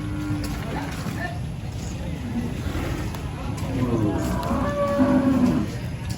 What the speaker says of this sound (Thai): อันนี้ก็วัวแดง อันนี้ก็วัว